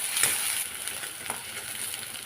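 Chopped onions sizzle and crackle steadily in a pan of hot oil while being stirred, a close, soft frying hiss with no voices.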